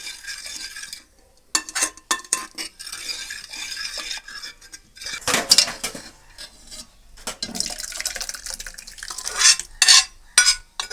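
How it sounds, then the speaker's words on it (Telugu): Tomato dal (pappu) being stirred in a pot with salt mixed in, giving irregular scraping and clinking spoon-against-metal strokes in short bursts, close and fairly clear with no talk. "పప్పుని ఈ విధంగా కలుపుకోవాలి ఫ్రెండ్స్"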